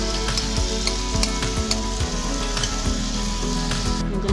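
Marinated paneer pieces sizzling loudly in a hot pan for dum paneer biryani, a dense continuous crackle with scattered sharp pops and a low hum beneath, no voices.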